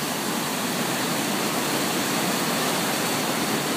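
Powerful water of the Ossipee River rushing through a dam, a loud, steady, dense roar that fills the whole clip without pause, like a close waterfall with no voices.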